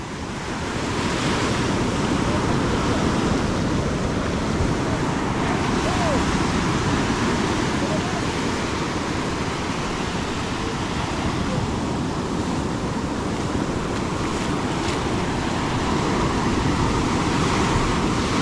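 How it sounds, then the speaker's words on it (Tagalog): Steady roar of river waves and a strong rushing current with wind buffeting the microphone, continuous and loud for the whole stretch, no talking. "ingat kayo yung mga naliligo at may alon at saka malakas ang agos"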